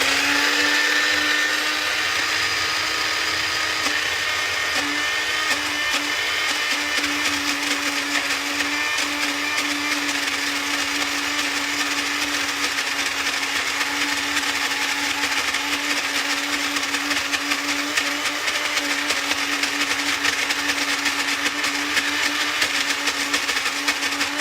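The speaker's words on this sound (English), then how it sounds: "I'm going to put it in my blender" A blender runs at full speed blending black raspberries, a loud, steady motor whine with a grinding edge that continues without letup.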